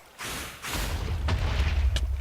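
Explosion in the game Minecraft, set off while fighting a Wither: a loud broadband burst with a heavy low rumble that holds on and rolls for about two seconds, with a second blast-like surge near the end.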